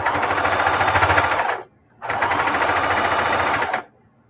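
Sewing machine running fast while stitching down a mitered quilt binding, two loud sustained bursts of rapid even stitching with a short pause between and a stop at the end.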